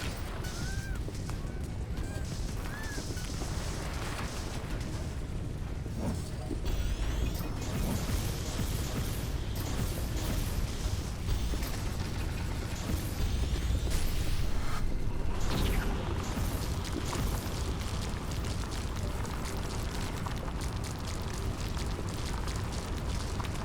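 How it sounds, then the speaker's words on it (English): A tornado tears through a base in The Riftbreaker, a long, loud roaring wash of wind and grinding destruction with crashing debris, creaks and scattered mechanical bursts that swell midway and never let up. "Tornado is demolishing our base."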